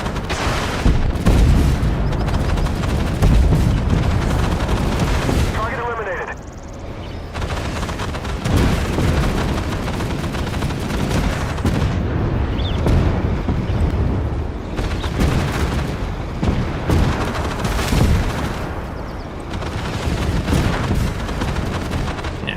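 An autocannon vehicle in a video game fires continuous rapid bursts, dense loud booms and crackling shots with a short lull partway through.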